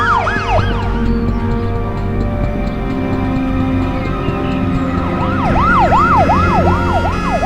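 An ambulance siren wails, rising and falling repeatedly over steady road rumble, fading briefly then returning loud and close.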